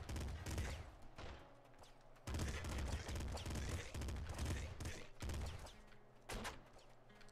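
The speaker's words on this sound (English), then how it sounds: "Was that triple machine gun?" Rapid bursts of machine-gun fire from a triple machine gun in the shooter Nuclear Throne, loud clustered volleys with short gaps between them, a faint voice now and then underneath.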